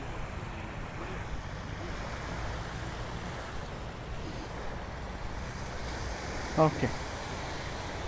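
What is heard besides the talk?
ocean waves at Patong Beach, Thailand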